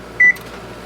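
A single short electronic beep from an oven control panel as it is set to 350, clear and close, followed by quiet room tone.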